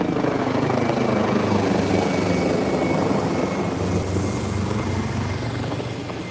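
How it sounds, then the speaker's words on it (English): Swiftwater rescue helicopter passing low overhead above a river search, its loud steady rotor thrum and turbine whine filling the air continuously without a break. "the Swiftwater rescue helicopter has arrived"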